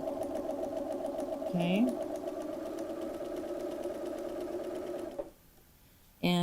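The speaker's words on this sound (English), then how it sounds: "So I'm just going to sew a regular 5/8 seam." A sewing machine stitches a 5/8 seam on a waistband, running at an even motor whir with rapid needle ticking before stopping abruptly, after which a voice speaks briefly.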